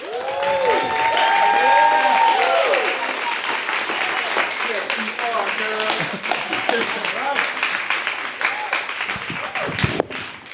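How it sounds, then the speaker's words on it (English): Loud, enthusiastic crowd applause after a spoken word poetry performance, dense clapping mixed with cheering and whooping voices that starts strong and tapers over ten seconds. "Give a big round of applause for Pamela, y'all."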